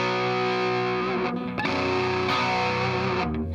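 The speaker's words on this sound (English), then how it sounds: "So the harder I hit the note, the more distortion I get" Electric guitar played through an overdrive pedal, giving a sustained, thick distorted tone with a couple of chord changes, loud and alone without talk.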